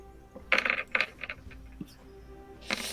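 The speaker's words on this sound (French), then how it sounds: "Jetez mes dés." Dice roll during a tabletop role-playing game, clattering in quick bursts of small hard knocks across about three seconds, with a final rattle at the end.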